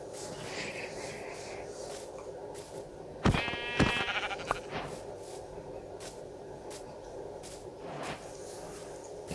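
Sheep in the video game Minecraft bleat a couple of times near the middle, short wavering calls over a steady background hum.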